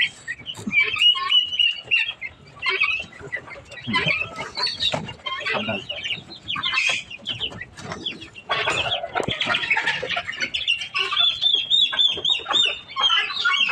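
Turkish breed chickens on a poultry farm cluck and squawk in frequent bursts, near and lively, with people talking among them.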